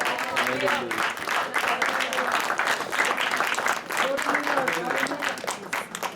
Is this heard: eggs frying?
no